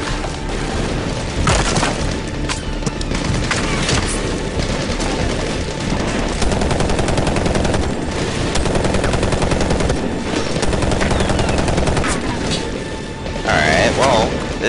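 Heavy gunfire in the video game Medal of Honor Warfighter: rapid automatic bursts and booming shots come in dense, overlapping volleys, loud and near, while a player's voice talks over the combat.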